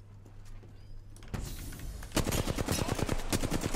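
Rapid automatic gunfire in the video game Apex Legends, starting with a few scattered shots and then breaking into a loud, fast burst of repeated cracks that keeps going to the end.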